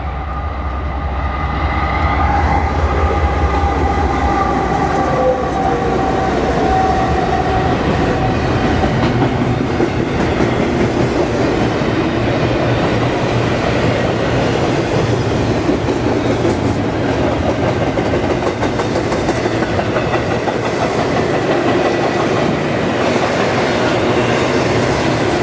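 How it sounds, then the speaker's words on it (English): A freight train rumbles past continuously, with a heavy low roar and a rhythmic clatter of wheels over the rails, loud and steady throughout. "Yep, it's a freight train."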